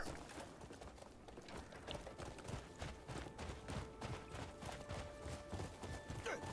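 Horse hooves clip-clopping in a video game, a steady rhythmic gait at moderate loudness over game music and ambience.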